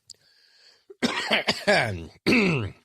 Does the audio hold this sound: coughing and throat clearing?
yes